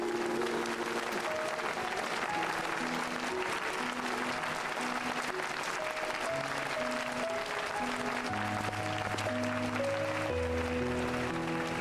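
A crowd applauds at a knight's investiture celebration in the Final Fantasy XIV: Heavensward video game, with steady, sustained clapping under soft musical tones for the whole stretch.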